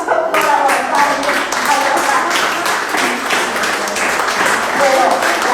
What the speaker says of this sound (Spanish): Un aplauso para Gonzalo.